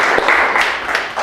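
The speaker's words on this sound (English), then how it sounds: "Give a good applause" An audience applauds a speaker at a women's leadership development event, with dense, steady clapping that fills the short moment at even loudness and no talk over it.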